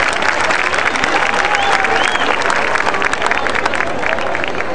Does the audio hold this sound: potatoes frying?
no